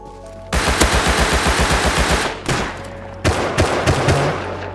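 Rapid bursts of AK rifle fire in the Rust survival game, loud and close, with a steady string of shots, a short pause, then more bursts.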